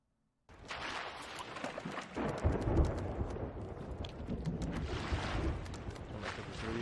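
Stormy sea in the pirate game Sea of Thieves, rumbling thunder and rushing wind and waves starting abruptly and rolling on continuously at a moderate level, with crackling bursts scattered through.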